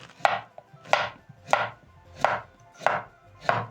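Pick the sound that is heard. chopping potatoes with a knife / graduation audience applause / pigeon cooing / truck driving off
chopping potatoes with a knife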